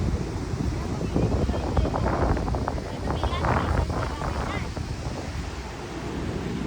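Sea surf on the Diu shore rolls as a broad, steady rush with wind buffeting the microphone, fairly loud throughout, while people talk nearby.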